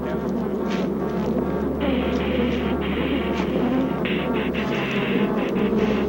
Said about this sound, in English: the bees persisted in their attack.